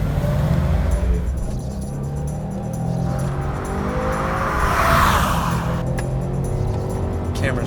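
A 2018 Subaru WRX STI Type RA at speed on a racetrack, engine droning loudly from inside the cabin with shifting pitch and tire noise, steady and close throughout.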